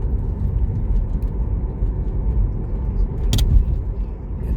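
A Tesla running Full Self-Driving beta rolls along a road, giving a steady low tire and road rumble throughout, with a brief brighter rattle near the end and no talking.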